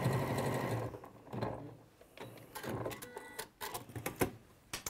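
A sewing machine runs steadily along a fabric seam, holding a constant whir at first, then breaks into shorter stop-start bursts mixed with light handling clicks.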